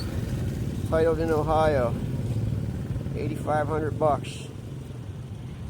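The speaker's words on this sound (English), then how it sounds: "Yankee engine rebuilt by Nesco Dirt Works in New Jersey" A Yankee engine rebuilt by Nesco Dirt Works, mounted in a hardtail chopper motorcycle, runs with a steady, close, low rumble that continues throughout while someone talks over it.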